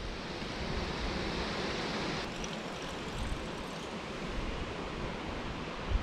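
River water flowing steadily through a deep ditch in Indiana fields, a continuous even broadband rush that stays close and constant throughout, with no voices.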